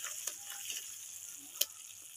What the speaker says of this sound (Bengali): আর মশলাটাকে খুব ভালোভাবে আর বাড়িয়ে কমিয়ে খুব ভালোভাবে কষাতে হবে